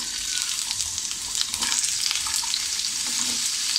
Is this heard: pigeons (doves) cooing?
no